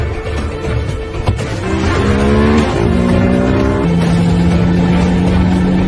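A car in a film scene pulls away, its engine loud and close as it revs up through rising gear tones and settles into a steady drone, with a sharp tire noise early on.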